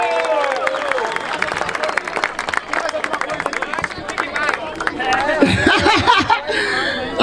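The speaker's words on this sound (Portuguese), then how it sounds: "uma salva de palmas aí" A crowd at a rap battle event in Barueri claps and cheers, dense applause mixed with laughter and shouting voices, building louder toward the end.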